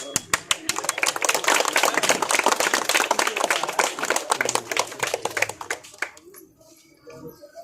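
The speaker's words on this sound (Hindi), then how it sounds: "ठीक है, ताली बजेगी, ताली" A crowd claps at an outdoor political rally welcoming Hina Shahab in Siwan, dense loud applause for about six seconds that then stops abruptly, leaving scattered faint sounds and a brief voice.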